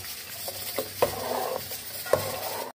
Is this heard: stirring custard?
yes